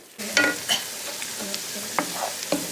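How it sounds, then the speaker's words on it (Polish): Onion fries in melting lard in a pan for bigos, a steady close sizzle with a few stirring scrapes and clicks over it. "Podsmażam cebulkę na, e, na smalcu, który się tutaj wytapia"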